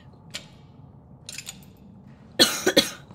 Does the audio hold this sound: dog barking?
no